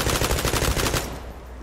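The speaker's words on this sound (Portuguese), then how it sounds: "Só tô atirando aleatório, pô." Rapid automatic gunfire from the online shooter Zula, a dense steady burst for about a second that then cuts off, leaving a quieter tail of game ambience.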